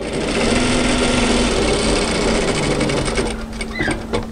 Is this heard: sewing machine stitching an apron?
yes